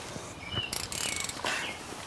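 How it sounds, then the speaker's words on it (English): A 14mm socket ratchet loosens corroded caliper bolts on a 2008 Hyundai Elantra, giving a short close burst of quick clicking over about two seconds, alone without talk. "I'm going to use a 14mm socket"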